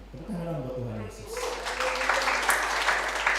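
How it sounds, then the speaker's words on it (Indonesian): A church congregation at an online service bursts into applause after a voice speaks, the clapping building and continuing steadily at moderate distance. "Tepuk tangan buat Tuhan Yesus."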